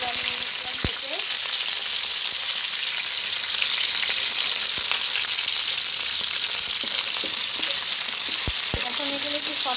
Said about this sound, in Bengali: সেই তেলটাতেই আমি দিয়ে দিচ্ছি রসুন কুচি, আর দিয়ে দিচ্ছি পেঁয়াজগুলো